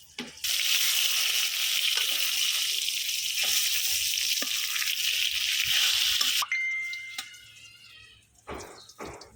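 Eggplant slices sizzle steadily in hot oil for about six seconds, a dense, fairly loud frying hiss with occasional pops, then the sound drops to quieter clinks and scraping.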